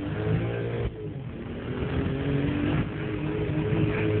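A BMW M3 E46 engine pulling hard with a steady, loud exhaust drone that dips briefly and then climbs again, heard from inside the car.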